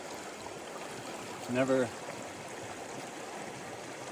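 Creek water runs steadily as a constant wash through the whole stretch, with a short spoken word rising briefly over it partway through.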